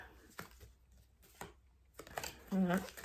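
Tarot cards shuffled by hand for a psychic reading, giving brief riffling and flicking bursts between pauses, close and moderately loud, with a voice making a short sound near the end.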